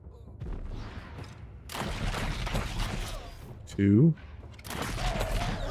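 Gunfire in the video game Wartales, a few sharp, loud shots popping through the scene between bursts of steady background noise, with a voice talking briefly.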